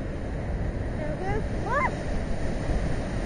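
Sea waves surge and break against the seafront promenade at the Casino in Constanța in winter, a continuous loud rumbling wash with wind noise, while someone shouts excitedly and whistle-like sounds rise briefly.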